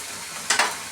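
Ginger-garlic paste dropped into a hot pan of fried onion paste while cooking prawn malai curry, giving a short, sharp sizzle burst that flares twice and fades within a fraction of a second.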